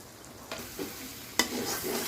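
Red chili paste of dried and green chilies is stirred and fried with masala in a pan, giving a soft steady sizzle with a few distinct scraping strokes, one sharper clatter near the middle, heard close and alone.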